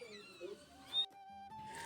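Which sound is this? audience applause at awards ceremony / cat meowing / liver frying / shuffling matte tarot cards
cat meowing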